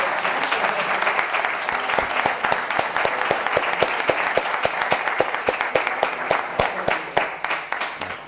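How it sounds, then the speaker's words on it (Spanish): An audience at a mystery-themed conference claps in a sustained round of applause, dense and steady with sharp individual claps standing out near the front, lasting several seconds. "creo que merece un aplauso por colaborar"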